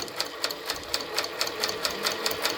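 A Sewtech ST-1900-AS sewing machine runs down the center of a seam with tape, producing a close, steady rhythmic clatter of evenly spaced needle strokes, about four per second, with no talking.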